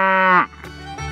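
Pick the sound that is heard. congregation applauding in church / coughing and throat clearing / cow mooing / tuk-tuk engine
cow mooing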